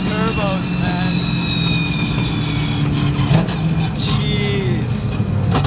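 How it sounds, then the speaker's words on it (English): Turbocharged 1000 hp 1965 Mustang with a sequential gearbox, its engine droning loudly and steadily with whining turbo tones that shift in pitch, heard from close by with no clear talk over it. "Listen to those turbos, man."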